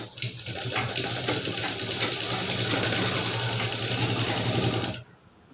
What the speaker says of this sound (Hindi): अब यहाँ पर हमें इस तरह से सिलाई लगानी है।